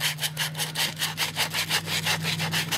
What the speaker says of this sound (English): I take a little bit of sandpaper, wear it all off.